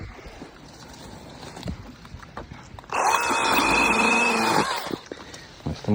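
A Makita DUC150 cordless mini chainsaw bites into a log more than 20 cm thick, a loud, steady motor whine for about two seconds mid-clip, set between quieter stretches of ambient handling noise.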